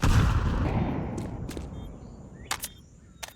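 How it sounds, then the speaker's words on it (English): A grenade bursts in a Counter-Strike match on the Ancient map with a loud, close boom that fades into a ringing tail, followed by a few faint sharp pops. "nade hitting"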